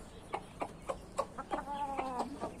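A laying hen, a naked-neck breed, clucking in a backyard aviary, a series of short evenly spaced clucks rising into a longer drawn-out cackle, close and clear.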